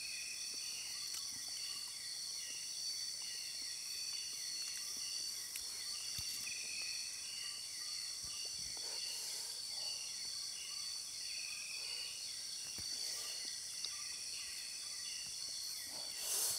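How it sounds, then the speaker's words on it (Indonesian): Crickets chirp at night in a forest as a faint, steady high-pitched trilling chorus, with a few soft distant sounds scattered through it. "Banyak suara jangkrik."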